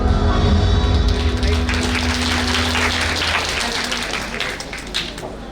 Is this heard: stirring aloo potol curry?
no